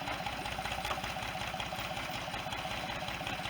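A farm tractor working a sorghum cane field idles steadily as it backs slowly down the row, a continuous low rumbling engine drone with an even, close, moderately loud tone and no talk over it.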